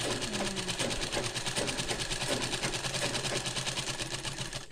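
A sewing machine runs steadily, stitching a kubasa blouse with a fast, even mechanical rhythm throughout, close and loud with no talking.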